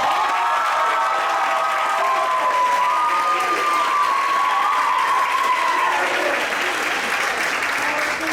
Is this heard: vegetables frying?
no